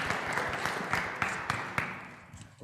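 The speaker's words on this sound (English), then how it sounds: "Would you please give Justice and all of our panelists a round of applause and welcome?" Audience at an adult education forum on racial justice gives a round of applause for panelists, a moderate patter of clapping with a few distinct louder claps that thins out and fades toward the end.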